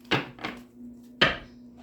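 A deck of Rider-Waite tarot cards is shuffled and tapped, giving three sharp, close riffling snaps separated by short pauses against a faint steady hum.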